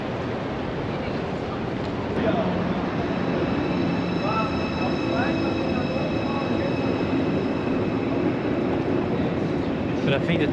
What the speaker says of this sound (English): There you have the train station of Hamburg.